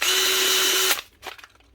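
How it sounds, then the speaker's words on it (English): A Makita power drill fitted with a new chuck runs steadily at high speed for about a second, a loud whine that cuts off abruptly, followed by faint clicks and handling noise. "One Makita drill with the new chuck."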